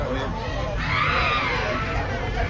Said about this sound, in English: Disturbing, desperate screams can be heard coming from her neighbor's apartment.